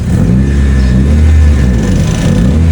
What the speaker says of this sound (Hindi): नीचे एग्जॉस्ट सिस्टम में ना कोई मोरी डल गया जिसकी वजह से ना एयर लीक कर रही है